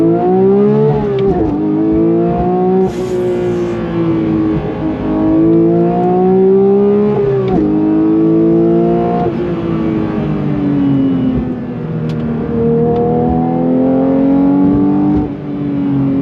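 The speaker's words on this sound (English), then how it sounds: "Let me get down to first gear from a roll. On throttle, here we go." A 2022 Porsche 911 GT3 pulls hard from a roll in first gear, its engine note loud and continuous as it climbs through rising revs, with a brief dip around a shift and no talking over it.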